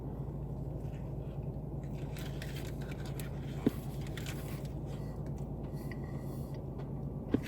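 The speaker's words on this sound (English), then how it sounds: "That's a healthy bite." Someone bites into a Burger King Rodeo Crispy Chicken sandwich, with steady close chewing and crunching over a constant background hum and a couple of brief sharp clicks.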